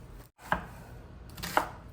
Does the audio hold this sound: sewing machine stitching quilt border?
no